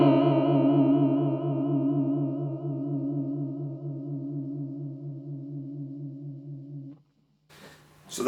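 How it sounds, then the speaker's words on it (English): Guitar chord ringing through a Walrus Audio Julia analog bucket-brigade chorus pedal on the triangle wave setting with raised lag and depth, a long wobbling, pitch-swaying sustain that fades over seven seconds, then a short gap and a sharp strum. "And here's the triangle wave."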